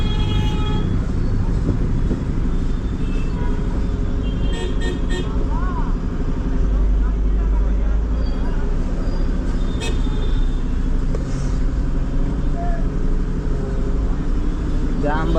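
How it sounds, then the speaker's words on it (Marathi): Dense road traffic jam on the Bhiwandi to Mumbai route, a steady roar of cars, buses and motorcycles with scattered horn toots, while people talk nearby throughout. "जाम भरपूर झालं भाऊ"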